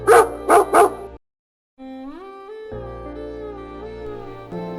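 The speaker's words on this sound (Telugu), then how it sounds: "ఇక్కడ వీధి కుక్కలకు అలవాటు ప్రకారం భోజనం పెడుతున్నాను." Street dogs bark three times in quick succession, close and clear, followed after a short silence by long, wavering whines and whimpers.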